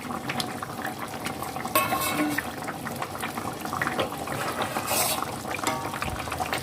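A pot of Bengali fish curry with banana stem bubbles steadily, with liquid burbling, a few utensil clinks and a brief scrape, close and moderately loud, and no talk.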